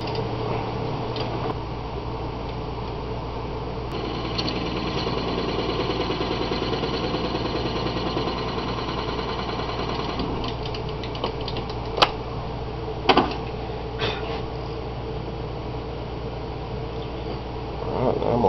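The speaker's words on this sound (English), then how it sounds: "Go ahead and clean the end of this up just a little bit, the Forstner bit." A Forstner bit turns on a lathe to clean up the end of tobacco pipe stock, giving a continuous machine drone with a few sharp ticks and brief scraping bursts of cutting, and no talking.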